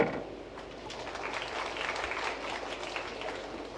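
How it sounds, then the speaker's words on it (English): Soft, distant applause rises from the crowd at a 10-ball pool world championship in Vietnam, a faint steady patter of clapping lasting a few seconds in a reverberant hall. "the very friendly Vietnamese will still give a little round of applause for a job well done"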